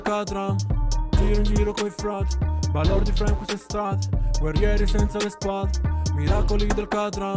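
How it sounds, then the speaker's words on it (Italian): A singing voice with a hard, stepped Crispy Tuner pitch-correction effect rides over a full, rhythmic backing track, each note snapping cleanly into place. "questo è il suono del Crispy Tuner"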